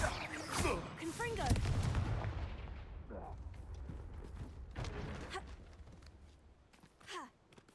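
A Confringo blast spell explodes in the Hogwarts Legacy video game: a sharp burst up front, then rumbling blasts and crackling impacts that fade and flare again, with a few brief voices.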